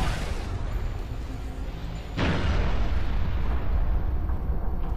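Rumbling artillery barrage in Halo Reach, a sustained roar of explosions with a sharp new blast about two seconds in that swells into a heavier, continuous booming wash.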